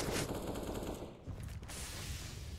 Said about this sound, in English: Snipers spamming mid, but no kills here.